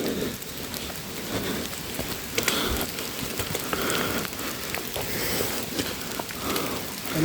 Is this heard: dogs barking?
no